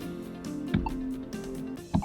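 Two short tonal beeps, like telephone keypad dialing tones, sound about a second apart over a steady low hum as an Avaya J Series desk phone places a test call.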